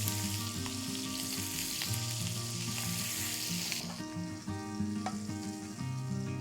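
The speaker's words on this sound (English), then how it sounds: "Then we're going to sear it." A dry Hokkaido scallop sears in a little oil with a steady, close sizzle that rises briefly before settling, while a musical backing plays beneath it.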